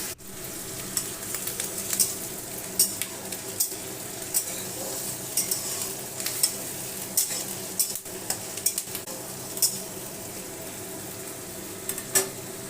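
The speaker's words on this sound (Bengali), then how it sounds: "পেঁয়াজটা দিয়ে দিলাম, দিয়ে ভালোভাবে নেড়ে চেড়ে নেব" Onion softens in a pan with a steady low sizzle, while a utensil scrapes and clinks against the pan in irregular stirring strokes, close and fairly quiet.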